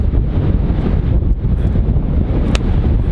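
Wind buffets the microphone outdoors, a loud, continuous low rumble and gusty roar that fills the whole short stretch, with no voices over it.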